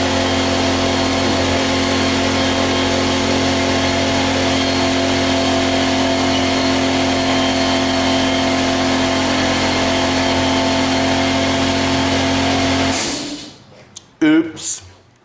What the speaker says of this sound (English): air compressor, I should have shut that off earlier